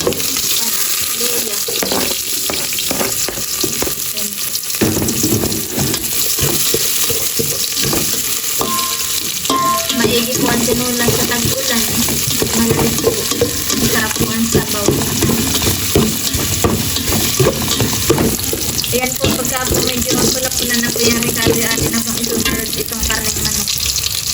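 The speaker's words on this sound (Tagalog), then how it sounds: "ilalagay na po natin yung mga regado, bawang, sibuyas" Chopped garlic and onion sizzle loudly in hot oil as the base for tinola, a Filipino chicken soup, with constant crackling and occasional stirring scrapes throughout.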